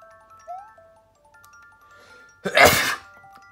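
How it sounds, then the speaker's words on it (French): A single loud, close sneeze bursts out near the end, preceded by quiet game jingles and soft chimes from a Super Mario Maker 2 session. "Ah, j'ai envie d'éternuer, c'est horrible."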